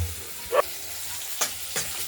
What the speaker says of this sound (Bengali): মাছগুলো ভাজা হয়ে গেছে, আমি বলি মাছগুলো ভাজা হয়ে গেছে, এবার তুলে ফেলছি